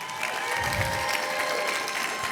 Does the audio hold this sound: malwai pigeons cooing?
no